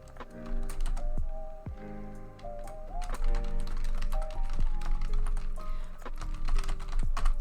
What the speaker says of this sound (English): I'm sorry about my typing.